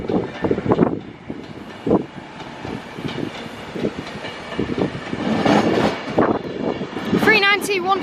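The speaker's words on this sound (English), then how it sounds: "Comes a 390 Pendolino." A Class 390 Pendolino train moves through Crewe station with a steady rumble and clattering wheel noise, wind buffeting the microphone, and a brief higher squeal near the end.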